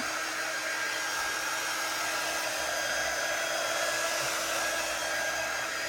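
A hair dryer blows with a continuous, even roar, drying chalk ink on a small fabric pillow cover, close and steady throughout with no voices.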